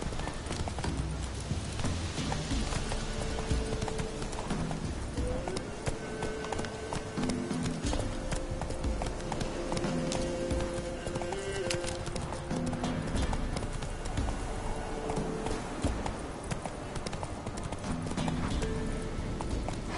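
Roach the horse gallops through the game world of The Witcher 3, a steady clip-clop of hooves running throughout with a short whinny, over a continuous bed of ambient game sound and music.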